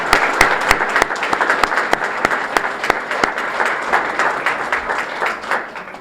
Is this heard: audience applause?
yes